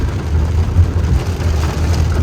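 A heavy downpour of steady rain patters on a surface, a dense, even hiss with a low rumble beneath, no voices.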